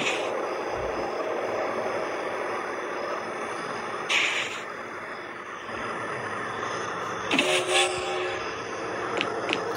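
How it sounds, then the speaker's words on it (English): A train in a video game rumbles steadily as it approaches, with short whistle blasts sounding twice, the second a quick double toot near the end. "The train's coming."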